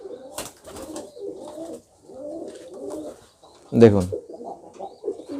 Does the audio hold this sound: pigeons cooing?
yes